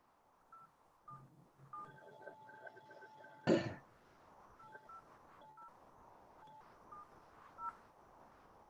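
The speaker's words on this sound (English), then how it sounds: "I just dialed somebody with my phone" A phone being dialed produces a string of short, faint DTMF keypad beeps at uneven intervals, with a throat clear or cough partway through and quiet room noise underneath.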